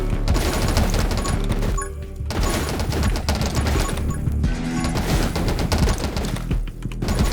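A relentless stream of rapid gunfire from the video game 20 Minutes Till Dawn rattles loudly and nearly nonstop, broken by a couple of short pauses, without speech.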